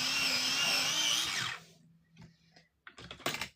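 A colored pencil is sharpened in a brief, loud whirring grind lasting about a second and a half, followed by a few faint clicks and taps in a quiet room.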